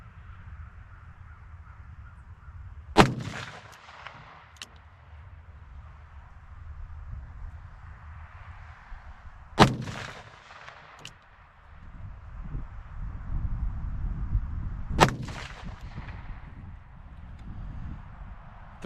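A Colt Anaconda revolver with Wilson Combat sights fires 310 grain Lee gas check bullets over 21.5 grains of H110 outdoors. Three sharp shots ring out about six seconds apart, each with a decaying echo, over light wind.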